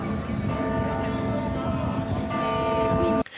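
Bells of Palermo cathedral tolling for the Pope's funeral, sustained ringing tones layered over each other at a steady level before breaking off abruptly, with a voice speaking over them.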